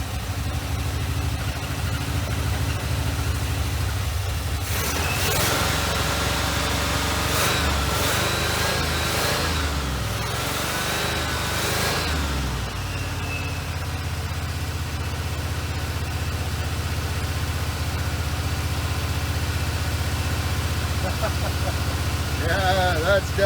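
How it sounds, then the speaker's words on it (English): A Chevrolet Monte Carlo engine running with a blown head gasket, a steady low idle rumble that rises into a rougher revving stretch mid-clip before settling back to idle, with someone talking over it. "Yeah, that's definitely a blown head gasket, folks."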